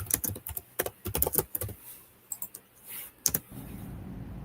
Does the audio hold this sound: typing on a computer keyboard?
yes